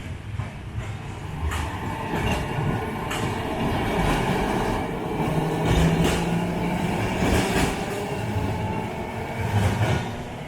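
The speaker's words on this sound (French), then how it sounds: "je continuais de regarder les tramways passer" Trams rumble past on a street in Italy, a steady loud rolling of wheels on rails with squeals and clatter, near and continuous throughout with no talk.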